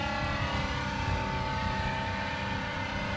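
A light aircraft flies over a reservoir on a first training flight, its propeller engine droning loud and steady throughout from inside the cabin.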